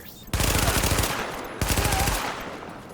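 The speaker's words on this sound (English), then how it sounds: "And shoot him in the face with the MP5" Two loud, rapid bursts of MP5 submachine gun fire in the video game The Division, each a dense rattle of shots lasting over a second, the second burst trailing into echoing decay.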